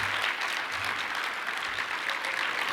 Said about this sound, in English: So let's give you all a big round of applause.